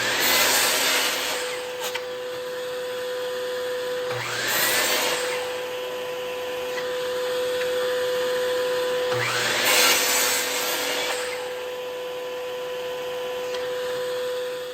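Saw cutting wooden side pieces for a small planter, a steady loud grinding drone with strokes swelling about every five seconds, close and continuous, no voices.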